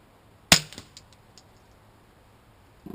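A Ruger 22/45 pistol fires a single CCI .22 round, a sharp close crack followed by a few faint metallic echoes, then quiet until a small clatter near the end.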